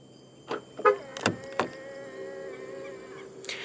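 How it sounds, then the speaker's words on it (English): Locking a 2023 Proton X90 1.5 TGDi through its keyless front door handle brings a few sharp clicks and clunks followed by a steady motorized whir, close and fairly quiet. "To lock the car, press the indented area on any of the front door handles."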